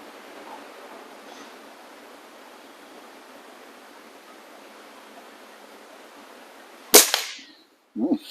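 A single sharp shot from an Air Venturi Omnistorm air rifle, a Chinese-made rifle with a Chinese barrel, cracks out loud and close after several seconds of steady background hiss. A second, shorter burst of noise follows about a second later.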